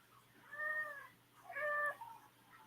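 A cat meows twice indoors, each call clear and fairly close, with a short pause between them and a quiet room hum underneath.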